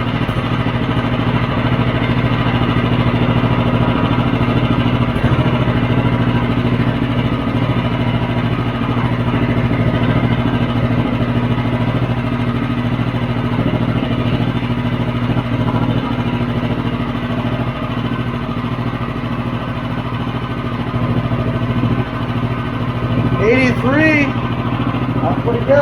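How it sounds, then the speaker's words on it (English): A Predator 212 small engine runs steadily with a four-disc Super Trap disc muffler on a Robertson torque tube, a loud, even idle-like drone throughout, with a brief higher whine near the end. "so we'll only have 4 discs on this Super Trap disc muffler, which is on the Robertson torque tube, and we're going to see how quiet this gets"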